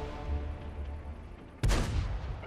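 A single heavy tank cannon blast from the World of Tanks battle game booms out suddenly after a stretch of steady rumbling background, loud and close, with a rolling tail.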